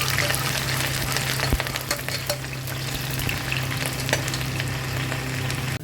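Sliced onion frying in hot oil for a Lucknowi dal gosht, a steady close sizzle with occasional stirring clinks and scrapes, no voices.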